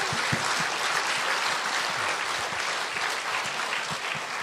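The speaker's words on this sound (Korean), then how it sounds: "박수 한번 보냈어요." A seated audience claps at a Buddhist monk's book concert, a dense, even wash of applause lasting several seconds at moderate loudness with no talk over it.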